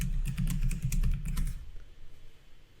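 Rapid clattering keystrokes on a computer keyboard as a password is typed, close and steady for about a second and a half before stopping, leaving quiet room tone.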